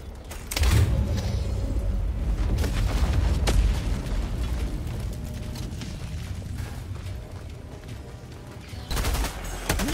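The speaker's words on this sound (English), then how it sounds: "throwing down a mortar sentry" A mortar sentry in the Helldivers 2 video game fires amid battle, with heavy booms, rattling gunfire and mechanical clanks throughout, the loudest blasts near the start and end.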